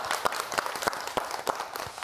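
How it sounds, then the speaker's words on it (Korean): An audience claps for a professor returning to the stage at a Korean health talk event, a short burst of dense, fairly close applause with rhythmic clap peaks. "여러분 박수 한번 주실까요?"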